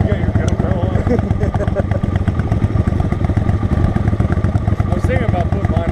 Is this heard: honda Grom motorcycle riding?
yes